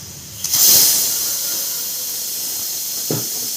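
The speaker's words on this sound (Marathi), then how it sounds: "याला दोन शिट्ट्या द्यायच्या आहेत" A pressure cooker of spinach rice vents steam in a strong, steady hiss over a medium gas flame, with a sharper burst near the start and a brief puff toward the end.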